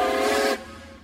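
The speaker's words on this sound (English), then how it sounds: "twin short toots on their train whistles" Steam-type train whistle on a North American railroad, one sustained loud toot that cuts off abruptly, leaving a low rumble.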